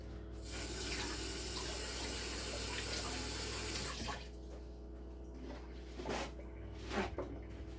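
A kitchen tap runs steadily for about four seconds while two eggs are washed, then shuts off, leaving light clicks and handling sounds nearby.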